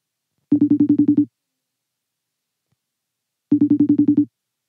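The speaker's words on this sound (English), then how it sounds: "It's ringing." A phone ringback tone repeats twice, each ring a rapid warbling buzz lasting under a second, separated by a long silent gap, clear and isolated.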